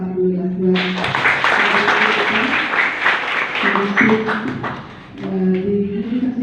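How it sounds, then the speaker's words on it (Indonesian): Applause from the audience at a public lecture at an Indonesian university, a dense clatter of clapping rising over a voice and continuing beneath talk, fading briefly near the end. "Tepuk tangan dulu ya"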